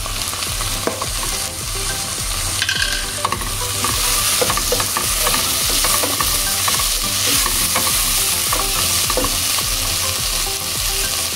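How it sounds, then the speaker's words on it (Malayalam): Chopped tomato hits a hot pan during beef kabiri rice preparation and is stirred, with a steady loud sizzle of frying under repeated scraping and clattering of the spoon against the pan, no voices. "ഇനി ഇതിലേക്ക് ഒരു തക്കാളി ചെറുതായി മുറിച്ചത് ചേർക്കുക."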